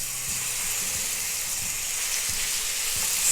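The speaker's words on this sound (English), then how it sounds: "to this hot oil, we are going to add our seasoned chicken breast" Seasoned chicken breast sizzles and fries in hot oil in a pan, a steady close crackling hiss that runs throughout with a few soft low knocks as pieces are laid flat.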